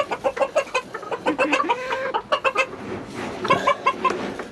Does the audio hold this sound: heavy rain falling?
no